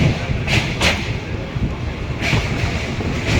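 A train rolls across the bridge over the Barakar river near Kumardubi, a loud, continuous rumble with wind buffeting and a few sharp clattering bursts of wheels on track.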